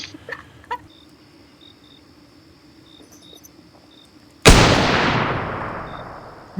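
A single loud, sharp gunshot rings out in a hunting video game and leaves a long, fading echo, while crickets chirp steadily in the background.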